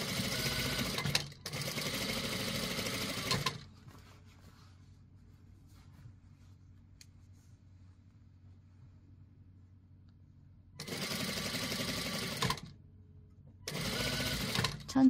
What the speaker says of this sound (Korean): 천천히 봉제 해주시고